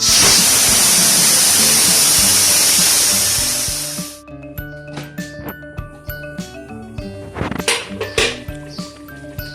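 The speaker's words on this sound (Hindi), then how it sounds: "अब मैं प्रेशर कुकर को खोल दूँ" A pressure cooker opened while cooking aloo gosht lets out a loud, steady steam hiss for about four seconds, then gives way to metallic clinks and rattles of pots and utensils.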